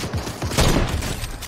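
Gunfire in the Fortnite video game, a loud burst of rapid overlapping shots with a heavy boom in the middle, close and dense.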